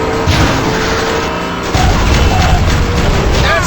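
A vehicle blows up in a video game with a loud, heavy explosion, a booming blast that jumps in force partway through and rumbles on densely over a continuous game soundscape.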